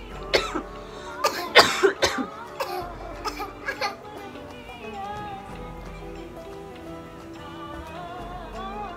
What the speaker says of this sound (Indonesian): karena kena covid jadi batuk-batuk gitu